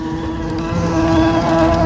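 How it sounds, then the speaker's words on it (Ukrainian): A bumblebee hovers among flowers outdoors, its steady, close droning buzz holding a low tone and running unbroken throughout, with no talking. "Джміль."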